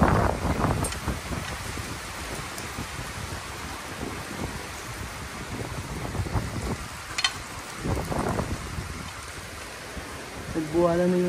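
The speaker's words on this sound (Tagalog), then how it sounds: "Lakas ng hangin." Strong typhoon wind and rain roar in a steady, broadband rush with buffeting gusts against the microphone, while a voice speaks intermittently underneath.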